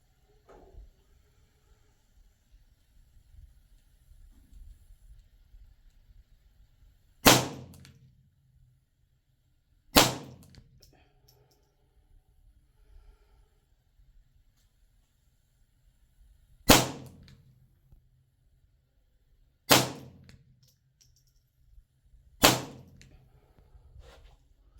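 Five sharp, unsuppressed gunshots from a Ruger 10/22 Charger .22 pistol ring out at irregular intervals, each a loud crack with a brief decay, over quiet outdoor background.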